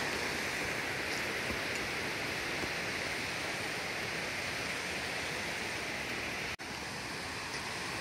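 A small waterfall at the Rylander Cascades near Virgin Falls, Tennessee, running at high water, a steady broadband rush of falling water, constant and unvarying, with one brief dropout.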